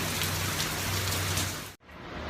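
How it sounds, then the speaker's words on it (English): Heavy rain pouring down in Houston, Texas: a dense, steady roar of downpour that stays loud and continuous before cutting out abruptly near the end, then resumes slightly quieter. "It is absolutely pouring here"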